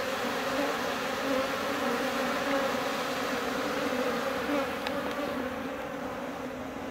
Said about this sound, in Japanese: 飛んでる蜂が少なくなりました。